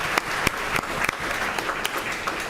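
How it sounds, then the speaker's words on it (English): Audience at a school district board of education meeting clapping steadily for a student contest winner, a continuous moderately loud round of applause with scattered sharper claps. "Let's give him another round of applause."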